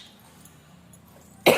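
A single sharp cough, loud and close, bursts out at the end after near silence.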